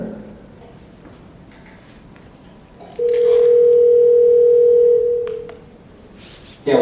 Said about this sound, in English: better get Bob on the phone here